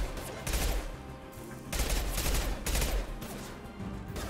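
Bursts of automatic gunfire in the Mass Effect 2 video game, fired through stairs, come as three loud sustained volleys separated by short gaps, heard alone.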